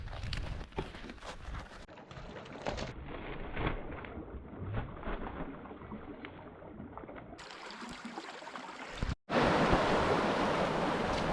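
River water rushes past at a crossing point, a broad, fairly close wash of flow with rustling and handling noise as the recorder moves, the sound cutting out briefly near the end before resuming louder.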